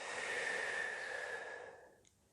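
A long, steady breath pushed out during a Pilates mat exercise, a close, soft rushing exhale lasting nearly two seconds before fading into quiet.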